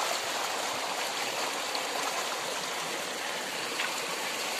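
Floodwater rushes through a stream after heavy rain, a steady broadband roar of churning water that holds constant and loud throughout, with no voices over it.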